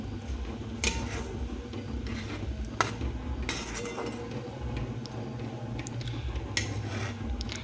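A spoon scrapes and clinks against a pan while grated fresh coconut and milk are stirred together for burfi, with soft irregular taps over a low background hum, close and fairly quiet.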